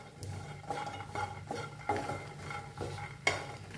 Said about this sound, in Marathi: त्याच्यातच खोबरं भाजून घेऊया।